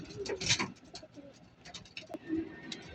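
Racing pigeons cooing in soft, repeated throaty bursts, fairly close, with a brief sharp click partway through.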